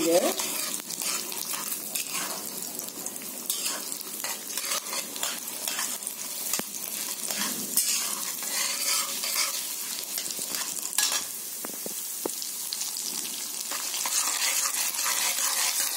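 Chana dal, urad dal, spices and dried red chillies frying in hot oil for lemon rice: a steady, fairly quiet crackling sizzle with faint scraping from stirring, running continuously throughout.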